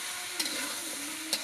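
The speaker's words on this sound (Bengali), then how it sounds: "লাকড়ির চুলায় রান্না হচ্ছে।" Food cooks on a wood-fired stove with a steady close sizzle and two faint scraping stirs, and no talking.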